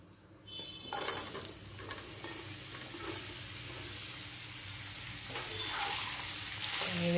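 Raw mango pieces stirred and fried in a pan with spices, a soft sizzle rising after a first clatter, with scraping stirs and a steadily growing frying hiss.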